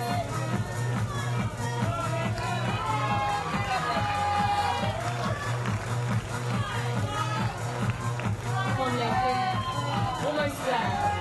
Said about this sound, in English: It's great to hear the crowds cheering on the athletes.